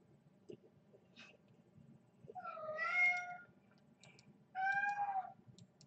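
A cat meows twice, close and clear, with a short call just before three seconds and a second, more even one near five seconds, over faint low background hum.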